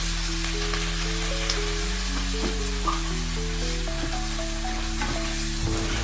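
Pork belly sizzles steadily in a pan after a little water is added, a continuous close hiss running beneath quiet background music with a slow stepping melody.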